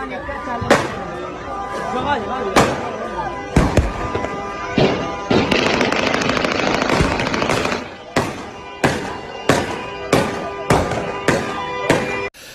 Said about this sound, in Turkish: tabanca ve otomatik tüfeklerle havaya ateş açıldı, havai fişekler atıldı